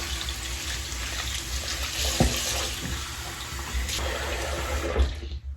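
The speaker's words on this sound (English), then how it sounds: "So I'm just gonna rinse that off." Tap water runs steadily into a bathroom sink as someone rinses their face, a constant close splashing rush with a few small splashes, fading out at the end.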